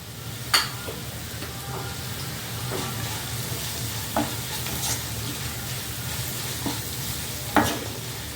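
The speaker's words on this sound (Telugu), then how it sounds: "ఇది కాస్త పచ్చివాసన పోయే వరకు కొంచెం ఇట్లా ఫ్రై చేసుకుంటూ కొంచెం అయిపోతుంది" Mixed green leaves frying in a pan with turmeric and chili powder, a constant soft sizzle with occasional sharp clinks of a stirring spoon, heard close and without speech.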